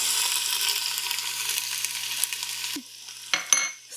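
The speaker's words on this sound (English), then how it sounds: "Sizzling away my onions." Onions sauté over medium heat in a pan, giving a steady close crackling sizzle that cuts off abruptly, followed by a few quiet clinks.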